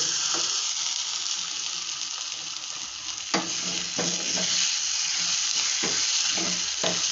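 Tempering spices sizzle and crackle steadily in a hot pan while making ridge gourd sambar, a dense frying hiss with occasional sharper pops and stirring scrapes throughout, no voices.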